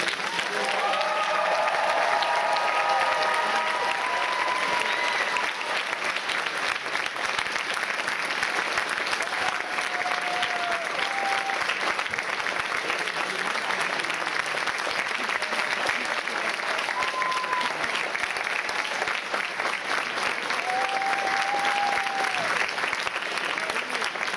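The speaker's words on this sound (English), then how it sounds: "let's hear our thunderous round of applause for all of our volunteers here today" Sustained applause from a large audience at a FIRST robotics district event opening ceremony in Waterbury, steady and dense clapping filling the hall for over twenty seconds, with faint voices and whistles mixed in.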